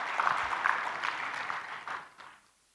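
Audience applause at a keynote address at a business forum in Udaipur, a moderate crowd clapping in a hall before quickly fading away to quiet.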